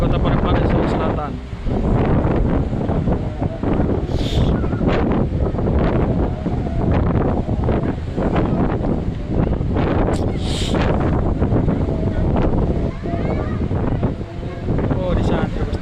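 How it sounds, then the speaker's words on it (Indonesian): Strong wind buffets the microphone at the floating mosque playground on the coast of Parepare, South Sulawesi, a loud, gusty roar throughout with waves breaking behind it, while someone talks over it. "Ini hari ini angin cukup kencang"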